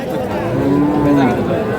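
Cattle at a village cattle market where dairy cows with calves are sold: a single loud, close moo lasting over a second, with faint crowd murmur behind.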